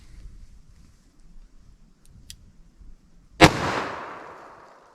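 A single sharp, loud revolver shot of a Buffalo Bore .44 Special wadcutter load fired toward a chronograph, cracking out of a quiet outdoor background and trailing off in a short echoing decay.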